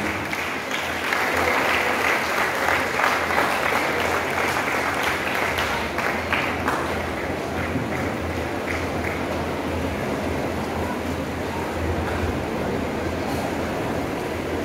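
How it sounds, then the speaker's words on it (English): Sustained loud applause from a gathered audience at a felicitation programme honouring a Catholic bishop, steady dense clapping filling the hall for the whole stretch and easing slightly toward the end. "let's give a huge round of applause for this auspicious moment."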